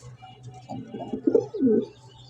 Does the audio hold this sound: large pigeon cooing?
yes